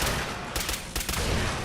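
Semi-automatic rifle fire in a Fallout video game, a quick run of sharp shots in close succession over constant background noise, each crack brief and fairly near.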